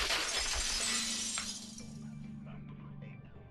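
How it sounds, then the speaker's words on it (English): A vase shatters in the Danganronpa 2 video game: a loud burst of breaking glass and ceramic at the start that tinkles away, leaving a low steady hum. "If it wasn't the window, then what broke to make that sound? A vase."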